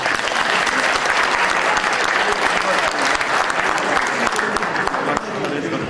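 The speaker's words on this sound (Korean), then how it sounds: "박수 한번 주세요." Loud, sustained applause from a large crowd at a university architecture department's 40th anniversary, dense clapping that continues steadily for several seconds.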